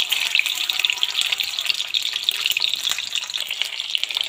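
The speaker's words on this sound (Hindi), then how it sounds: "एक बार से इसे फ्राई करेंगे गोल्डन ब्राउन होने तक।" Eggs frying in a pan for dhaba-style Indian egg curry, a steady, dense sizzle and crackle of hot oil running close and continuous throughout, with no voices.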